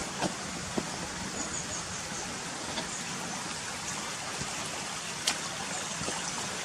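A stream runs steadily below a boggy path near railway sleepers in Gunnerside, a continuous broadband rush of flowing water with a few brief knocks and clicks, moderately loud and with no voices.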